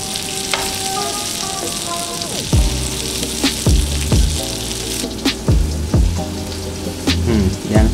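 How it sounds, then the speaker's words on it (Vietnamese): Grilled pork sizzles steadily in a pan after a little butter is added, a constant bright crackle with intermittent utensil clinks and scrapes over it. "Sau khi thịt đã chín thì mình sẽ thêm một tí xíu bơ vào để cho thịt nó thơm hơn."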